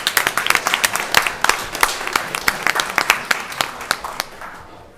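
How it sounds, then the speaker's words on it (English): Audience applause for children at a town Board of Commissioners meeting: a steady patter of many hands clapping close by, sustained for about five seconds before tapering off, with no talk over it. "Let's give those kids a round of applause."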